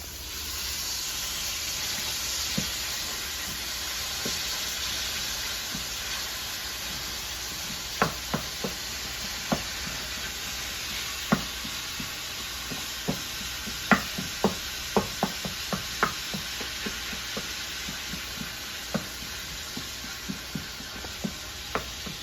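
Velveeta Hamburger Helper sizzles steadily in a pan while a fry-cook spatula scrapes and knocks against it in scattered sharp taps, close and fairly quiet.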